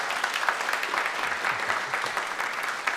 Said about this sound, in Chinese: 我们拍手来欢迎他。